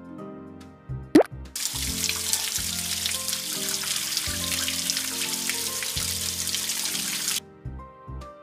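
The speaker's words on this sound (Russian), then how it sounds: "Намочи щенку лапки водой из-под крана." Tap water running onto a puppy's paws in a Paw Patrol video game, a brief click followed by a steady hissing stream of water for about six seconds that cuts off abruptly, with soft game music tones beneath.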